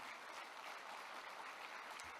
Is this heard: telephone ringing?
no